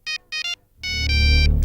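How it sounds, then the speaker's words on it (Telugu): A mobile phone ringtone sounds up close: three short electronic beeps, then a brief pause and a louder sustained tonal melody, with no voices over it. "అక్క ఈ ఫోన్ ఎందుకు లిఫ్ట్ చేయొద్దంటుంది?"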